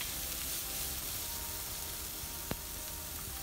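Onion sautéing in olive oil in a pan, a dense, even hiss of sizzling that continues steadily throughout, with one brief sharp tick near the end and no talking.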